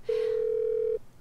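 A single steady telephone tone plays unbroken for nearly a second in a quiet street setting, a phone call left unanswered, with no talking over it.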